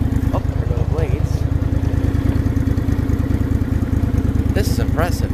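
An old Craftsman riding lawn tractor putters along with its mower blades engaged, a steady low engine drone with a rhythmic clatter that stays loud throughout, while a voice talks briefly over it.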